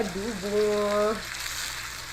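Chicken liver adobo sizzles and fries steadily in a pan, a soft crackling hiss under a brief tonal sound near the start.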